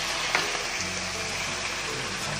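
Crispy pork sizzling as it fries in hot oil, a steady dense crackle with no one speaking.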